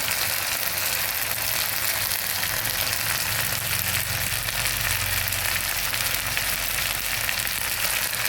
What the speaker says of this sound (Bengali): বাটা মশলাগুলো সুন্দরভাবে ভেজে এবার গুঁড়ো মশলাগুলো দিয়ে দিচ্ছি। ধনে গুঁড়ো, জিরে গুঁড়ো,